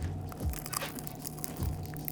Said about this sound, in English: Just listen to the crunch.